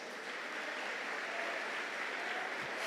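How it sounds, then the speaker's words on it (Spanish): Audience applause for a young man named Steven at a church service, a steady dense wash of clapping throughout, fairly distant and even with no voices over it. "Un aplauso a este joven."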